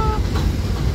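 A New York subway D train at Bay 50 St station makes a loud, low rumble with a short burst of wheel noise, close by, lasting only a moment.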